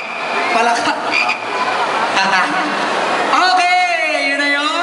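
Frogs croaking close by in a loud, rapid stream of rasping calls, with voices talking over them and a sweeping tonal sound entering near the end.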